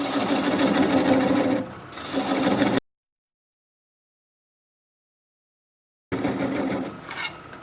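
Wood lathe turning a small bowl at slow speed with a 3/8 inch swept back bowl gouge, a loud steady whirring cut that drops out into complete silence for about three seconds, then starts again.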